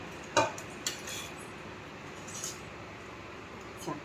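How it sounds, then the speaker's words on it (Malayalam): A spoon scraping and tapping in a bowl while jackfruit preserve is mixed with rice powder: a few sharp clinks spaced apart over soft stirring, fairly faint and close, with no talking. "ഇനിയിപ്പോൾ ഇത് മിക്സ് ചെയ്യാൻ പോവാം കേട്ടോ."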